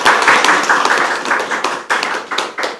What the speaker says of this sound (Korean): 큰 박수로 함께 해주시겠습니다.